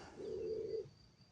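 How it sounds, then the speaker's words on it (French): A single soft pigeon coo, low and brief, close by overhead from pigeons nesting in a quiet space. "les pigeons, là, ils font un nid là au-dessus de ma tête"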